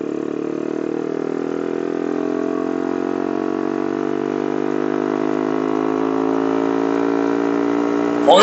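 A Yamasaki YM50 50cc motorcycle idles steadily and close by, a buzzing, even drone that holds for several seconds with only slight swells before a short clatter at the very end.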